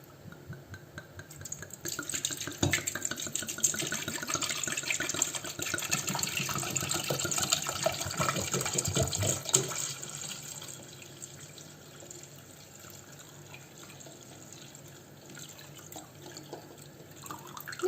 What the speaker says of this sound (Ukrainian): Що спочатку заливаємо вино.